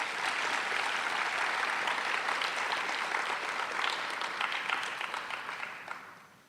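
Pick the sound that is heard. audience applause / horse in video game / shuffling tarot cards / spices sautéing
audience applause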